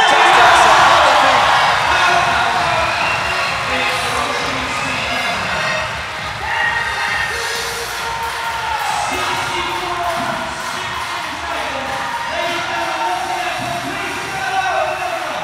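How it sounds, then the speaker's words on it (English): Crowd cheering and roaring at a show-jumping horse event, the Longines Speed Challenge, loudest at the start and then holding as a steady, broad wash of voices and whoops at a distance. "you can hear the crowd in the background there loving this already"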